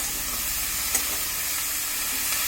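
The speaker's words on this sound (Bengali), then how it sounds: "এখন এটাকে আমরা ভালোভাবে নেড়ে দিব।" Cabbage curry sizzles in a pan while being stirred, a steady close frying hiss with a faint scrape or two and no voices.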